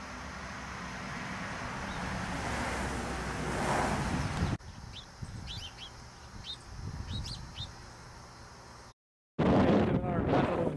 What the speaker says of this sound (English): Our 20-mile-an-hour winds out of the south.